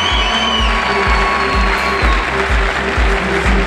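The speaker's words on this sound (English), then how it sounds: "But also a big, big applause for Tobias Neely." An MMA event crowd applauds fighter Tobias Nierlich in the cage arena, clapping and cheering under loud, pulsing music with a steady beat.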